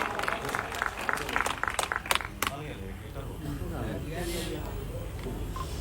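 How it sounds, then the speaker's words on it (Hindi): A burst of audience clapping at a motivational speech event in Patna rings out briefly and loud, then fades into a steady murmur of crowd noise with talking over it. "शानदार तालियां।"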